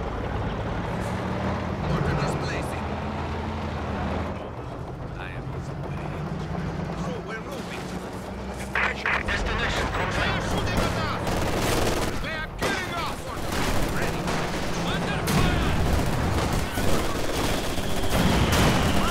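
Gunfire and artillery in the Company of Heroes 2 video game, with loud bursts of shooting and rumbling vehicle noise building over time, while soldiers' voices shout over the battle.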